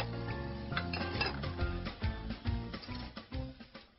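Pots, pans and cutlery clank and clink during dishwashing in a series of uneven, close metallic knocks, with no talking.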